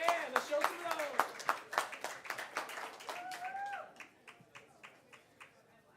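A small audience at a poetry reading claps in loose, sparse bursts that thin out to a few scattered hand claps, with a person's voice talking and whooping over the first half.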